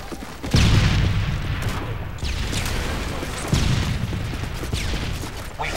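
Grenade blasts in a Call of Duty MW3 team deathmatch on the Resistance map, two loud booming bursts about three seconds apart with rumbling tails over continuous battle noise.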